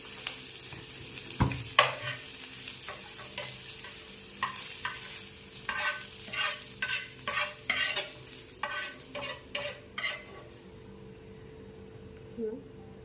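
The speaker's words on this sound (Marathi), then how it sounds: "कांदा आणि खोबरं आपलं तेलामध्ये परतून झालं आहे" Chopped onion and grated coconut sautéing in oil in a pan, a background sizzle broken by a series of rhythmic scraping stirs that grow busier midway, close and clear, with an occasional faint voice.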